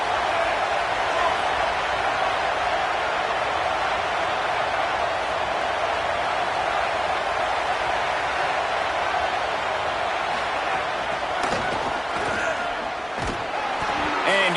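A steady, loud roar of a football stadium crowd fills the whole stretch, a dense wash of noise behind a play, with a few sharp slaps and impacts near the end.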